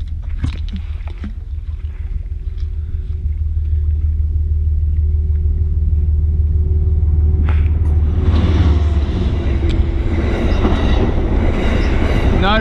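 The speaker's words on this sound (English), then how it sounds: "That train can sneak up on you." A train rumbles past very close, a heavy low roar joined by rattling, clanking and screeching wheels as the cars go by, loud and continuous.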